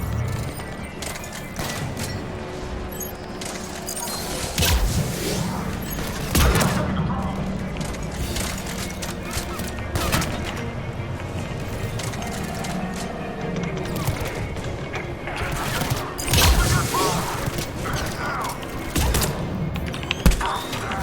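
Sniper rifle fire and combat noise in the Mass Effect video game, sharp cracks scattered over a dense, continuous battle din with mechanical clatter, loud and busy throughout.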